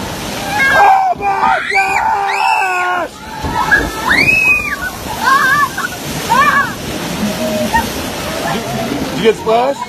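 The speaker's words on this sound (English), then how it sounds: "You get splashed?" Rushing, sloshing water and splashes from a water ride at Disneyland fill the scene while excited voices shout and squeal over the noise.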